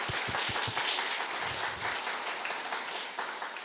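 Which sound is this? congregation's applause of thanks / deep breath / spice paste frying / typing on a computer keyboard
congregation's applause of thanks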